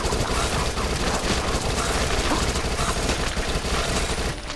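Continuous submachine gun fire in the zombie shooter Dead Nation, rapid dense bursts holding steady and loud throughout, easing slightly only at the very end.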